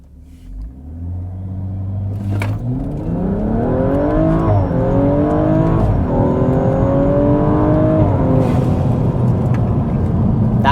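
A Stage 2 BMW M135i accelerates hard in full manual mode. The engine's loud, close roar climbs steadily in pitch, then drops briefly at each quick upshift before pulling again.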